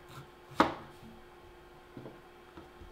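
A knife slices the end off a plantain on a cutting board, giving one crisp, close chop followed by two softer, faint taps, with no talking.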